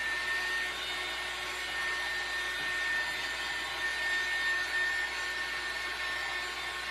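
Hair dryer blowing steadily to dry paint on a craft place card, a constant close whooshing hum with a faint whine, unbroken for the whole stretch and no talking.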